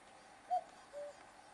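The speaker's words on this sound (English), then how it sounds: "There's a cuckoo in the background." A cuckoo calls faintly in the distance in West Donegal, two soft hooting notes heard in a quiet outdoor setting.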